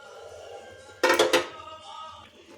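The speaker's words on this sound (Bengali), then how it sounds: "এখন এর মধ্যে ভেজে রাখা বেগুনগুলো দিয়ে দিচ্ছি। বেগুনগুলো দিয়ে মিশিয়ে দেবো।" Fried eggplant tipped into a pan of cooked vegetables and stirred, a short clatter of utensil against the pan over quiet sizzling, with a voice speaking softly around it.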